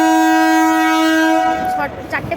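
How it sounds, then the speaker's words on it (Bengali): A train pulling into a station platform sounds a long, loud horn blast for about a second and a half, then a bustle of voices and platform noise follows. "অ্যাট লাস্ট ট্রেনটা ঢুকলেন"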